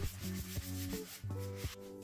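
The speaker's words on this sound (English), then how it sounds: "For this you can use an abrasive pad or a sanding sponge." Steady scraping and rubbing as old paint is hand-sanded off a leather steering wheel of a Passat B6 with a sanding sponge, in repeated strokes with brief pauses between them. No talking.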